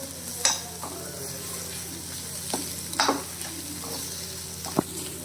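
Tomatoes sautéing in a pan for egg biryani give a steady soft sizzle, with occasional sharp scrapes and clinks of a stirring spoon against the pot.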